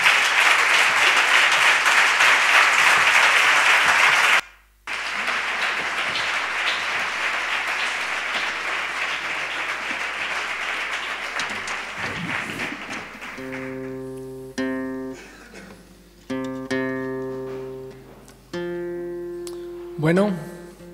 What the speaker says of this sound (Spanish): Un aplauso fuerte para él.